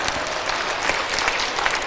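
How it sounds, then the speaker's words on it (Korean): Audience applause from a church lecture crowd, a dense, steady wash of clapping that fills the whole stretch at an even level with no voices on top. "박수를 치려면 치고 말라면 막 그래요"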